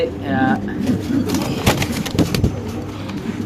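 Pigeons at a large commercial pigeon farm, with soft cooing and bird calls running through a steady, busy background of many birds, with some voices mixed in.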